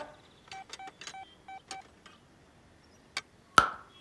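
A telephone is dialed: a quick series of short, clean keypad tones, several in a row, followed by a couple of clicks and a sharper ringing ping, in a quiet room with no voices.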